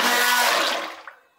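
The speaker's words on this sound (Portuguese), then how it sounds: "E vou começar a bater com o mixer." A hand mixer whirs loudly through a basil soap mixture in a short burst, a steady buzzing drone that then winds down and fades to silence.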